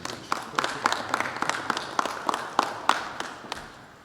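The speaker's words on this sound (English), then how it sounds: "Did you just applaud?" An audience at a Penn State event with Governor Wolf marking NIL legislation claps in scattered, uneven strikes, a modest round of applause from a smallish crowd heard fairly close for a few seconds.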